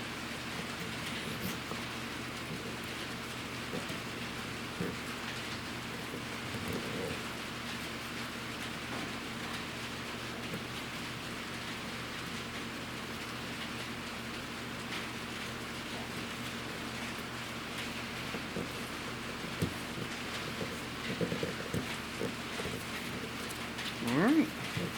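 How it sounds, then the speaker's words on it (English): Steady rain falls outdoors as broadband hiss across a 25-second stretch during repair work on a Bobcat Pioneer utility vehicle, with faint clanks and handling noises and a brief louder knock near the end. "Oh my goodness, this rain."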